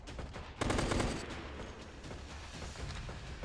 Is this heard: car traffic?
no